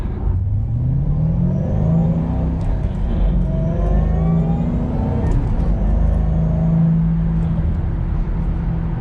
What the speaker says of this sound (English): I love the sound of that blower whine so much, I don't want to drown it out